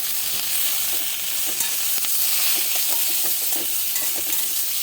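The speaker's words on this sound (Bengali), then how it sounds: "মশলাটা পুরো ভিন্ডিটার সঙ্গে ভালো করে মিশিয়ে নেব।" Okra sizzles in a pan with pickle spices as a spoon stirs and scrapes through it in irregular strokes, a constant frying hiss underneath.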